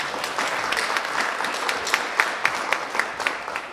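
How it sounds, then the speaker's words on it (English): Audience applause at a talk event: steady, dense clapping from a seated crowd lasting several seconds, with a few sharper individual claps standing out near the end. "Let's give him a round of applause, please."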